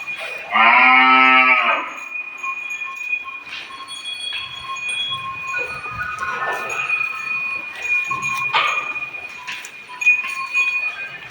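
Cows at a cowshed in Kutch, including Kankrej cattle, with one loud, close, drawn-out moo at the start and then a fainter murmur of barn activity and distant calls.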